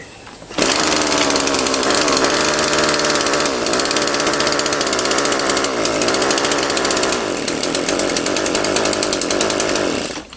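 A small lawn mower engine runs continuously with its choke on, a loud, steady buzzing drone with slight fluctuations in speed throughout, close up and with no talking.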